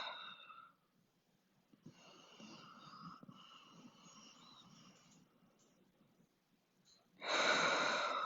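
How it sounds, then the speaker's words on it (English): Slow, deep breaths during a relaxing core stretch session, soft airy inhales and exhales close to the microphone, quiet and calm, ending in a louder, longer exhale. "Let's take 3 more breaths."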